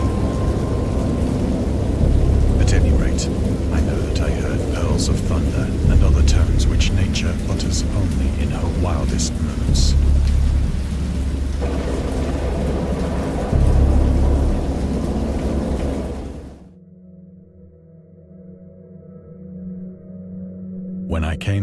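Steady rain with low rumbling thunder rolls through a great storm at sea, broadband and continuous for about sixteen seconds before cutting abruptly to near silence with faint low hum.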